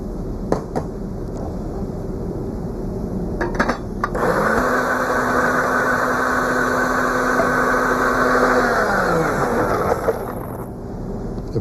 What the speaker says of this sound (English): now we place the asparagus into a blender.